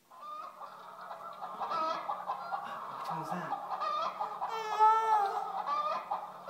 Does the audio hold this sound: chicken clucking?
yes